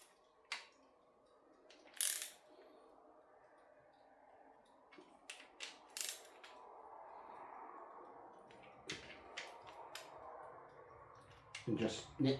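A ratchet tightens the timing chain tensioner on a Leyland 154 tractor during restoration, giving bursts of close, crisp clicking separated by pauses, over faint background noise.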